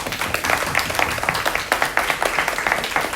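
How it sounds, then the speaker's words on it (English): Brief applause from people gathered at a community meeting on legislative priorities, a moderate patter of clapping that rises and falls slightly over a few seconds. "Round of applause for everybody."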